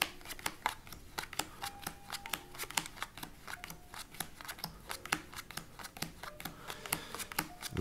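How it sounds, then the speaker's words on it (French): Playing cards are dealt one by one onto a table in a card magic routine, giving soft, close, irregular flicks and slaps, with no talking. "vous allez distribuer une carte à gauche si vous pensez qu'elle est rouge, et une carte à droite si vous pensez qu'elle est noire"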